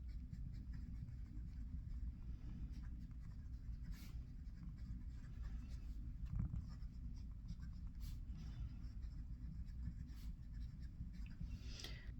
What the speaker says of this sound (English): This nib writes like a typical sailor nib. It has a little bit of feedback so you can feel the nib on the paper